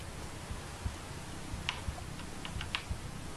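Computer keyboard keys pressed during a Tomb Raider III play session, giving scattered soft clicks and taps at an uneven pace, close and fairly quiet, with no voices.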